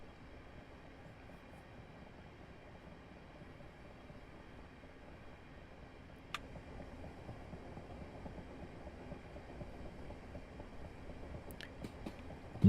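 A train runs on the Medway Valley line in Train Simulator Classic, a low, steady rumble of rolling wheels on track with a few sharp clicks near the end, moderately quiet and continuous.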